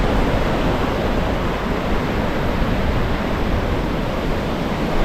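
Steady broadband roar of ocean surf on a beach at Santa Maria, Cuba, continuous and loud with no pauses, probably mixed with wind buffeting the microphone.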